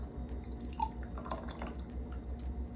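Lemon tahini dressing is poured into a jar, making soft, wet dripping and squishy plops with gentle liquid splashes close by, under a low steady hum and no speech.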